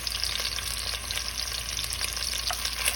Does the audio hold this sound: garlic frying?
yes